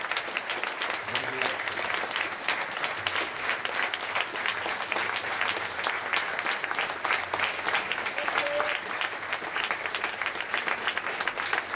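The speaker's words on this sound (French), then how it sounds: "on peut les applaudir" Sustained applause from a crowd fills the whole stretch, even and lively, with faint voices mixed underneath.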